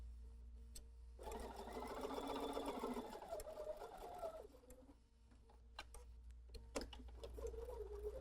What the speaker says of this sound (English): let's take this to the sewing machine